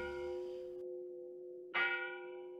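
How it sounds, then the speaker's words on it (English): Church bells ring out with sustained, resonant tones, and a fresh strike in the middle brings a bright clang that hums away slowly. The sound is clear and unaccompanied, with no speech. "he could hear the church bells ringing."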